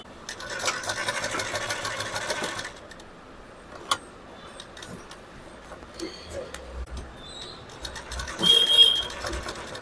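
A sewing machine stitches a pad into a princess-cut blouse, a fast rattling run at close range that stops after a few seconds, followed by scattered handling clicks and quiet talk.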